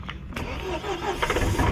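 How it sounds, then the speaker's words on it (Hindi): A Mahindra Thar engine turns over and catches in freezing winter cold in Spiti, a short, close mechanical rumble that settles into a running hum. "गाड़ियाँ स्टार्ट करना शुरू कर दिया भाई ताकि थोड़ा सा गर्म कर ले"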